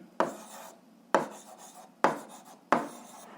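Four separate strokes of writing down an equation, each a sharp scratchy onset tapering into a short rasp, evenly spaced and close, with no speech.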